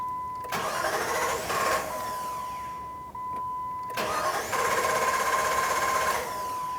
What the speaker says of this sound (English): if the vehicle starts, let it run until it just dies out